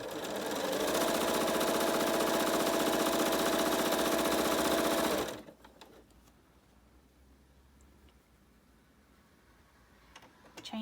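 A sewing machine chain pieces a quilt block, running in a fast, steady whir for about five seconds before stopping, leaving faint fabric handling and quiet room noise.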